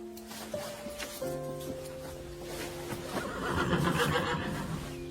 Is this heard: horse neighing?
yes